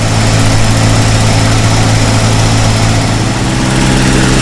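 A warmed-up original 1951 Pontiac engine with a 6-volt system idles steadily and close, a loud, even low rumble that holds constant throughout with no voices.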